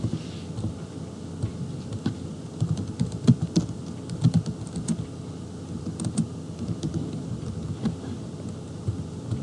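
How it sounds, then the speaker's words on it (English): Keys clatter on a computer keyboard in an irregular run of quick taps, close and fairly soft, over a steady low background hum with no voices. "Let me just type that out."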